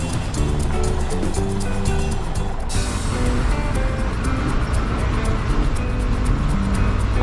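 A bus travels along a forest road near Gavi in Kerala with a loud, continuous engine and road rumble. The texture shifts slightly a few seconds in.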